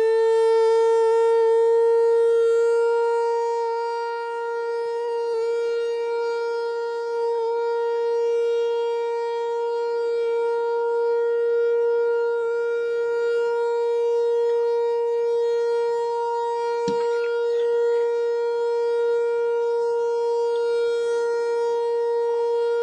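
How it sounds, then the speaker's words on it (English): A T128 tornado siren in the Roblox game Greenville sounds one loud, steady, high-pitched tone for over twenty seconds, with only a brief faint click partway through. "This is what the T128 sounds like."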